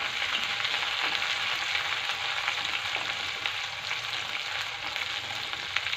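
Garlic, chili and ginger fry in a hot pan for a spiced potato, pea and fenugreek curry, giving a steady, loud, continuous sizzle with faint crackles and no talking.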